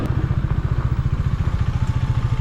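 A Benelli 600i motorcycle engine idles close by, a loud, fast and even throbbing pulse with a slight metallic clatter that holds steady throughout.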